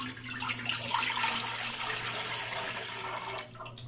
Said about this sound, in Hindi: 1 लीटर मैं पानी ऐड कर रही हूँ इसमें।